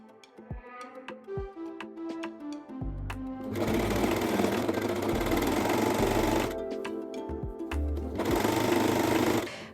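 A sewing machine stitches a band onto a garment armhole in short bursts, then runs in two longer continuous whirring stretches, close and clear with small clicks between.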